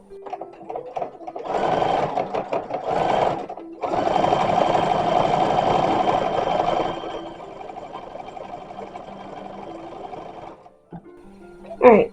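Sewing machine stitching the panels of a dress copied from a 1920s–1930s original, running in short bursts and then a long steady run, with quiet pauses and a brief clunk at the end.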